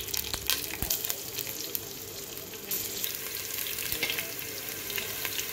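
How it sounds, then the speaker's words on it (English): Green chilies and cardamom pods fry in hot oil left from browning onions for Hyderabadi mutton biryani, a dense steady crackle close by with a few sharp pops and no talking. "Now as the oil is hot, we'll add in this cardamoms. Now we'll add this green chilies."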